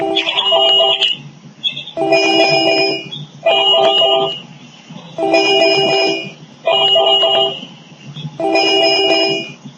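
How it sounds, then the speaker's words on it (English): A telephone rings in six evenly spaced bursts of a bright electronic warble, each lasting about a second with short pauses between, loud and close. "I can't hear with the ringing"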